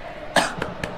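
Someone gives a sharp cough followed by two smaller, quick coughs, close and clear against a quiet background hum.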